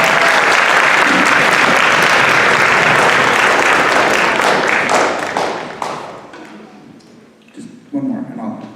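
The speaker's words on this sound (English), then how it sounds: "Go ahead and clap for him." A school orchestra concert audience applauds a student with loud, sustained clapping that fades away after about five seconds, leaving a few scattered claps and a brief voice near the end.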